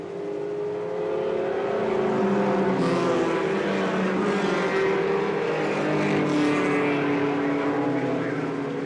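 Stock cars racing around a short track, a continuous steady engine roar heard from a distance, with several cars running side by side.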